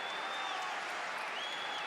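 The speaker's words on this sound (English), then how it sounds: "Baines again milking the applause." A football stadium crowd at Everton versus Manchester United applauds with a steady, distant wash of clapping and crowd noise throughout, and thin whistle-like tones ride over it.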